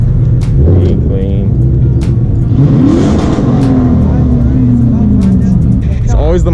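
A Mustang's engine revs at a car meet, loud rising and falling throaty surges among other running cars, with people talking over it nearby.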